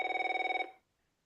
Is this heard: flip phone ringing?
yes